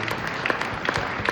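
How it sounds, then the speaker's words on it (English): A few sparse hand claps from the audience at a commemorative celebration of a long-married man, sounding as scattered, irregular claps in a room over a low murmur, with no sustained applause. "Now that's got to be a hand clap right there."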